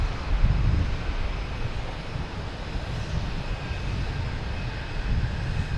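A plane coming in to land at Boston Logan Airport, still a little way off, as a steady, broad engine roar with low rumble and some wind buffeting the microphone, held at an even level throughout.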